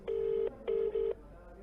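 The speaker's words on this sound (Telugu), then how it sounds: "రింగ్ అవుతోంది ఫోన్" A telephone ringback tone plays over the line in two pulsed bursts, a steady electronic hum, clear but moderately quiet.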